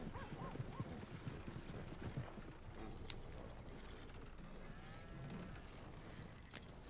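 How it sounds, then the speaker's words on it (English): Steady clip-clop of horse hooves drawing a covered wagon in a video game, fairly close and continuous, with a faint whinny and light wooden creaks and little talk. "Those are some nice horses too."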